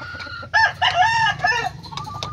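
A Golden Boy rooster crows close by, a single strong, drawn-out cock-a-doodle-doo with a steady low hum underneath.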